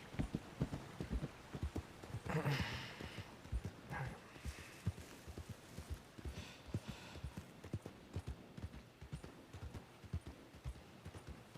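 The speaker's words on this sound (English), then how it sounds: "Oh gosh, there's another wild horse." A wild horse in the RedM Western game clip-clops along in steady, fairly close hoofbeats, with a brief snort or whinny early on; the hooves keep a regular rhythm throughout.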